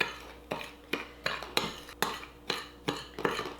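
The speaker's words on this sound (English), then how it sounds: "So we're just going to mix this all together." Seasoned breadcrumbs with chili powder and smoked paprika being stirred with a metal utensil in a bowl, heard as about eight regular scraping, clinking strokes, close and fairly quiet, with no talking.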